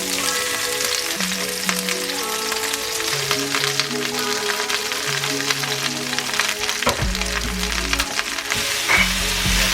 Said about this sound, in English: you just want to add a little oil back into your pan and you want to saute your vegetables